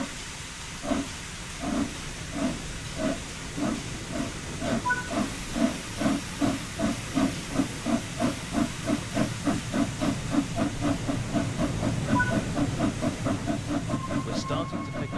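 Flying Scotsman steam locomotive in Train Sim World 4 chuffs in a steady, quickening rhythm of hissing steam beats, close and loud, with a brief whistle-like tone near the end.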